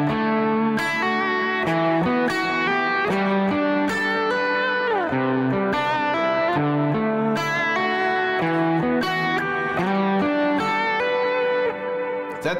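Electric guitar rings out with delay and reverb, chords and single notes trailing into echoing repeats that sustain and blur together.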